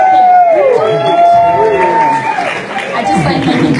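A stand-up comedy audience cheers and claps in a loud crowd roar, with whoops and shouting voices rising over the applause throughout.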